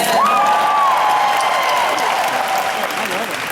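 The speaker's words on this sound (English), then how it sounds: "Is there a cheer, a round of applause for corned beef?" A live audience answers a call to cheer for corned beef with loud, sustained applause and cheering, a crowd roaring and clapping together with a few shrill voices rising above the steady wash.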